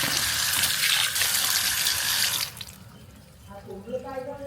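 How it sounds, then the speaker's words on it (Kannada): Chillies being washed under a running kitchen tap, water gushing loudly and continuously before cutting off, leaving quieter dripping and handling noises. "ಇವಾಗ ಇದೆಲ್ಲ ಕ್ಲೀನಾಗಿ ತೊಳ್ಕೊಂಡು ಸ್ವಲ್ಪ ನೀರು ಆರಿದ ಮೇಲೆ ಹರಡಾಕ್ತೀನಿ"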